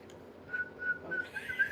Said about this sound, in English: Whistle if someone's coming.